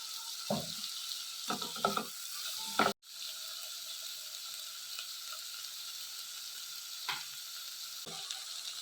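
Okra sizzles steadily in a pan with coconut milk, a continuous fry hiss with a few scraping stirs and a brief clunk partway through, no voices.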